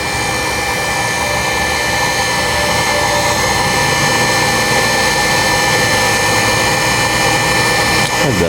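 A 12-volt water pump motor running smoothly while pumping from a well, a loud continuous whirring hum that holds steady throughout.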